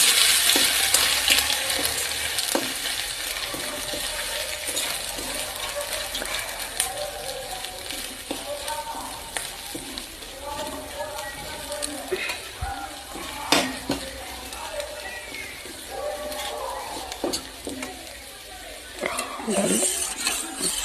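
Mung dal with carrot, peas and potato cooks in a pan, sizzling and frying steadily while a spoon stirs and clinks against the metal now and then, close up, with someone speaking over the cooking.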